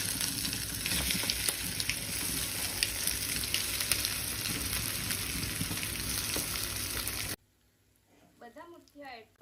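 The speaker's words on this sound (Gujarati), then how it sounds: "હવે આપણે જે આ મુઠિયા છે તે અંદર એડ કરી દઈશું" Bottle gourd and fenugreek muthiya go into hot oil with mustard seeds and curry leaves, a loud crackling fry with popping spatters for several seconds, followed by a quiet stretch with a voice talking.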